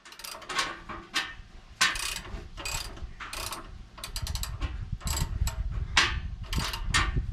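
A ratchet wrench tightens new weight-bearing bolts on a generator mount for a 2005 Kodiak truck, making bursts of close, crisp clicking with short pauses between strokes and some clunking underneath.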